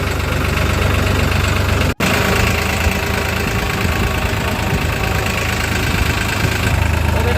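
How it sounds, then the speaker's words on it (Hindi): A tractor engine idles with a loud, continuous low rumble close by. The sound cuts out for a brief instant early on, then carries on steadily to the end. "ट्रैक्टर लगाओ।"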